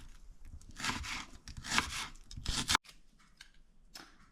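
A knife saws and slices through an onion on a board in a few close rasping strokes, with a sharp cut near the middle, then quieter light cutting noises.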